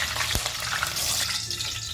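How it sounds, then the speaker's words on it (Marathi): Slit green chillies frying in hot oil for crispy sweet corn fritters, giving a steady, close crackling sizzle with a brief sharper pop early on, and no voices. "तर मिरच्या तळून घेऊया."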